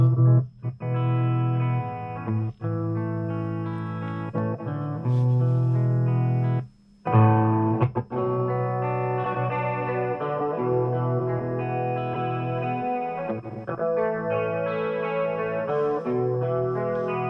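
An electric guitar played through a BOSS GT-1 effects processor with echo, sustained chords and notes ringing with repeats and distortion, loud and steady with a brief gap midway, no talking.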